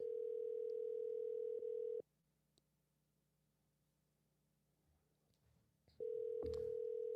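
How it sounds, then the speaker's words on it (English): An unanswered telephone call rings out through the line: a steady ringback tone sounds for two seconds, stops for about four seconds of near silence, then starts again. The tone is clear and close, with no voices. "Tim ain't answering the phone"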